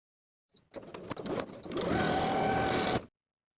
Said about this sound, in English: Take this to your sewing machine and edge stitch along the bottom fold of the top section.